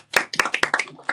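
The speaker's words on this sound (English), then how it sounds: "Clap it up for yourselves." A small group of students clap in a classroom, several sharp separate claps in an irregular burst, close and fairly loud, with brief gaps between them.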